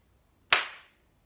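One sharp hand clap, close and clean, with a short fading tail in a quiet room.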